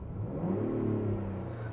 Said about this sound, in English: Let's see maybe if we switch it over to Baja mode, if it lets us rev it up all the way.